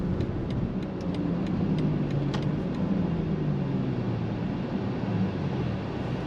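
A 2024 BMW X5 luxury SUV driving on the road, a steady low engine and road rumble heard from inside the cabin, fairly quiet and continuous without talk.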